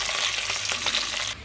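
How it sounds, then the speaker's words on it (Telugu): Spice seeds, chopped green chilies and onion pieces crackle and sizzle in hot oil for an aloo-brinjal curry, a steady close hiss with small pops, then easing slightly at the end. "ఆయిల్ వేడయ్యాక కొన్ని పోపు గింజలు, మనం కట్ చేసి పెట్టుకున్న పచ్చిమిర్చి, ఆనియన్ ముక్కలు వేసుకోండి."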